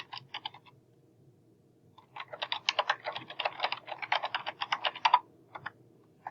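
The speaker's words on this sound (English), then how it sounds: "So I'm just typing what I want to appear." Rapid clicking of keys on a computer keyboard, a short burst, a pause, then a longer steady flurry of typing, close and moderately loud.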